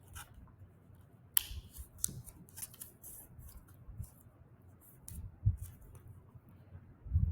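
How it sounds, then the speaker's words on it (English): A square of paper is folded along its diagonal and creased, giving soft rustles and a sharp crisp snap close up, with light rubbing afterward. No one speaks. "I'm going to fold it so it's a diagonal."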